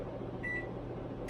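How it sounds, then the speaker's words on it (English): Steady low hum of a microwave oven heating cream cheese in a home kitchen, quiet and even throughout, with a faint brief tone partway through and no talk. "you're going to pop that in the microwave for about"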